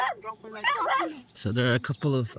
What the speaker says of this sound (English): I don't know if you can hear the barking